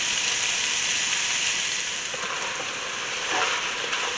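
Italian sausage and vegetables frying in a pot, a steady loud sizzle and hiss close by with occasional stirring, no voices.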